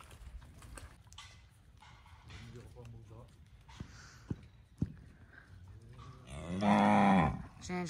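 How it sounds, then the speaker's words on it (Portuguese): Herd of cattle eating feed at a farm in the early morning, with low moos and chewing noises in the background, two sharp knocks, then one loud, close, drawn-out moo near the end, under a person talking. "a vacada ali tá toda comendo a ração"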